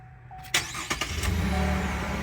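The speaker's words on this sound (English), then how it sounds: "That's the first time Luca's ever started a car." A Chevrolet Colorado pickup cranks and catches, its engine starting with a few sharp bursts and then settling into a steady, close running rumble.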